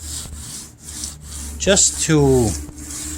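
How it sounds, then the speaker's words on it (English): A 400 grit sandpaper block rubbing lightly over the freshly painted roof of a 1962 Comet, with a few short rasping strokes close by and a faint voice in the background. "I took a little block here with some 400 grit"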